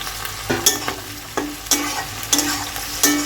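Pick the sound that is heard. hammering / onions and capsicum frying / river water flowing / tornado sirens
onions and capsicum frying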